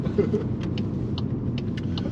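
A 2022 Volkswagen Golf GTI SE with a 6-speed manual gearbox, heard from the back row while driving downhill, giving a steady low engine and road rumble with faint high ticks throughout.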